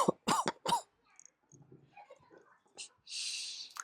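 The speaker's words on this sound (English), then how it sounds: "5 minutes and I've already got a smoker's cough." A person coughs and clears their throat several times after a first cigarette, with sharp bursts early on and a harsh raspy hack near the end, close and fairly loud.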